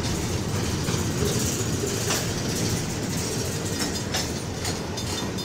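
Canadian National freight train 9638 passing through Effingham, Illinois: a loud, continuous rumble and rattle of rolling wagons with faint clicking wheel beats throughout.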